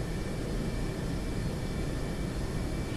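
A jet aircraft takes off in a combat flight video game on a runway strike mission near Beirut, giving a steady broad roar of engine and air noise at moderate level with no talk.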